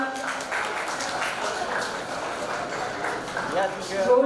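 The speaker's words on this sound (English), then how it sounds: "Keep clapping everyone." A convocation crowd keeps up dense, continuous clapping during a 2023 graduation roll call, a steady wash of many hands at moderate volume that swells slightly near the end.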